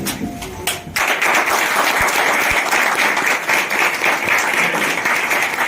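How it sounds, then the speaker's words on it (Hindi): Warm applause welcoming guests at an NGO gathering for women, a brief tap or two and then dense, steady clapping from a crowd close by, continuing without a break. "जोरदार तालियों से स्वागत कीजिएगा।"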